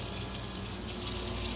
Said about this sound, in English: So I am filling up a quart jar